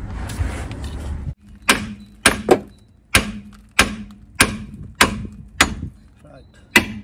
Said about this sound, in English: Next step, I need to hammer here